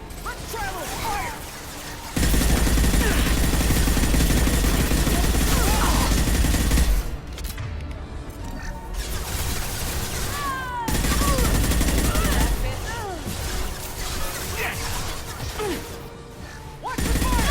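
Heavy automatic gunfire in the Mass Effect 2 video game, loud sustained bursts that cut out briefly and resume, with voices shouting over the combat.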